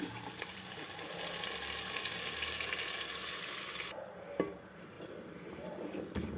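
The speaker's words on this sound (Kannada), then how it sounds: "ಈಗ ಇದಕ್ಕೆ ರುಬ್ಬಿಟ್ಕೊಂಡಿರೋ ಮಸಾಲೆ ಹಾಕೋಣ" Loud, steady sizzling from a hot pan that abruptly quiets as thick ground masala goes in, followed by a clunk and softer bubbling sizzle.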